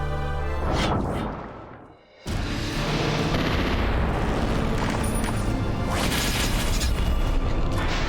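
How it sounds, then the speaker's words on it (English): Cannons fire in the strategy game Symphony of War: The Nephilim Saga, with a heavy booming blast, a sudden brief silence, then a sustained dense roar of explosive fire and crashing impacts, loud and without speech. "we're going to begin by hitting him with cannons to do the most damage"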